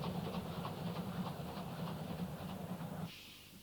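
A French SNCF 241P class mountain steam locomotive with high-spoked driving wheels gives a rhythmic, hissing chuff at a moderate distance, steady and fairly quiet before cutting away near the end.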